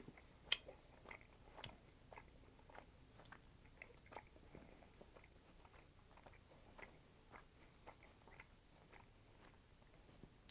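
Close, quiet chewing of a baked marshmallow Peep that came out flattened and less puffy, with soft sticky bites and small crunchy clicks scattered irregularly through the stretch, no talking.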